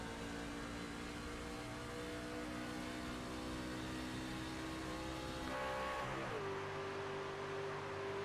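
A race truck engine roars steadily at a Daytona race, then its pitch shifts and climbs as it accelerates hard.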